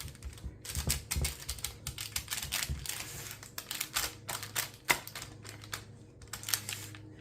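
Parchment paper crinkles and crackles in quick, irregular bursts as buckeye bar mixture is packed down into a pan, close and fairly loud with no talk.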